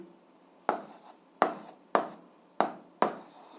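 Chalk or marker writing out an equation during an algebra lesson, five sharp strokes at roughly even intervals, each one a crisp tap that trails off into a short scrape, close and clear against a quiet room.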